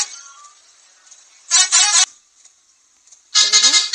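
Bus horn in a bus simulator video game, two loud sustained honks roughly two seconds apart, each about half a second long, over quiet background hum.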